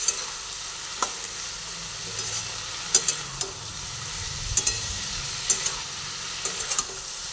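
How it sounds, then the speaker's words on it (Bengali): Green chillies fry and sizzle in a pan, with a steady soft hiss broken by scattered clicks and scrapes of a spatula stirring them, close and without talk. "দিয়ে ভালোভাবে নাড়াচাড়া করে করে ভেজে নিচ্ছি।"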